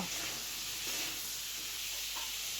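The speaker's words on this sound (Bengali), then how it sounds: "অবশিষ্ট তেলটুকুর মধ্যে আমি ঝিঙ্গাগুলো ভেজে নেব।" Ridge gourd pieces with a little salt and turmeric fry in leftover oil over a low flame, sending up a constant, close, even hiss of sizzling with no voices.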